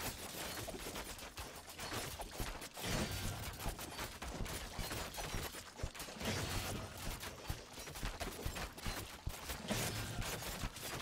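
Rapid volleys of weapon fire in the strategy game Thronefall, dense and continuous for about eleven seconds with overlapping shots at a steady low level and no voices.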